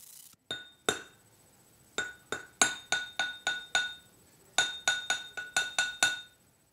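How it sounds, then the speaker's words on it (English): A drinking glass filled with water is struck repeatedly in a music-class game, giving a series of bright, ringing clinks in quick irregular bursts, each note decaying briefly, heard close and alone. "Now Laser Gator player hits his glass."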